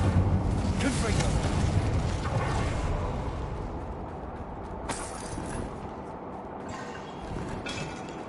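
Fire spell explosions from Hogwarts Legacy, a sustained rumbling blast at the start that fades into crackling, with a few sharper bursts later and a voice speaking spell names over the game audio.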